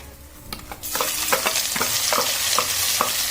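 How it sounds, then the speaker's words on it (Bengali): Chopped onions hit hot oil in a pan while cloves, sugar, chilli and bay leaf cook for a prawn malai curry, bursting into a loud steady sizzle with repeated scraping stirs at a regular rhythm. "পেঁয়াজ কুচি দিয়ে দিলাম"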